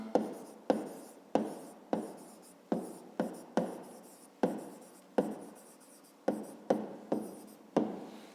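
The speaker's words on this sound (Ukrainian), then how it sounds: "Ну, а тепер записуємо відповідь." Pen strokes on paper as a maths answer is written out by hand, a series of short scratchy strokes in an irregular rhythm, close and quiet, with no talking.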